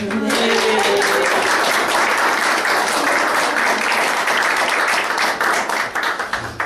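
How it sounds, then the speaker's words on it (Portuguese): An audience at a talk bursts into loud, vigorous applause, a dense close roar of clapping that holds for about six seconds before thinning out into scattered final claps. "Só, Andressa merece um salto de palmas"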